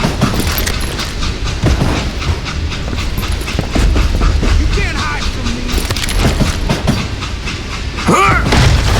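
A train in the Western shooter Call of Juarez: Gunslinger rumbles loudly and steadily, with rhythmic clickety-clack of wheels on rails and occasional metallic squeals, while voices talk over it.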